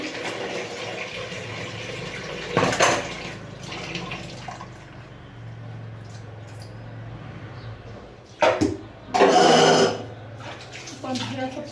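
Water splashed by hand onto a kitchen counter platform before scrubbing with soap, coming in short bursts, the loudest near the end, with someone talking over the splashing.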